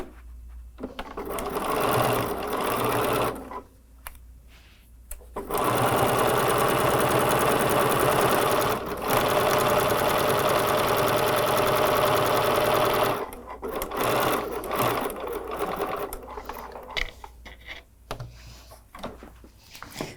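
A sewing machine stitches a quarter-inch seam across a Bespoke Stars quilt block, running in several bursts, one long steady run in the middle, with short pauses and quiet handling between.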